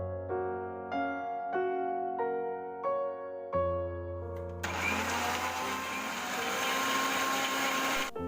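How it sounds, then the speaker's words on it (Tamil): A blender starts up and whirs loudly and steadily, blending a banana milkshake with milk, after a short run of melodic background music notes. "இதுக்கப்புறம் இதை வந்து நம்ம நல்லா பிளெண்ட் பண்ணிடலாம்."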